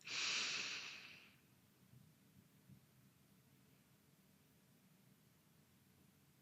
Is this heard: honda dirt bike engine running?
no